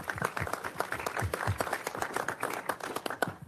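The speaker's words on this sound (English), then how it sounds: "How about a big round of applause for that work?" Attendees at a county executive committee meeting applaud, a brief burst of scattered hand clapping in a room that rises and tapers over a few seconds.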